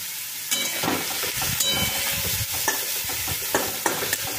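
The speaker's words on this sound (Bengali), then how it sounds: "এবারে একটুখানি এগুলোকে ভেজে নেব" Spices with garam masala powder are stirred and fried in a pan for arhar dal with cauliflower, with a steady sizzle and sharp scraping strokes of the spoon close by.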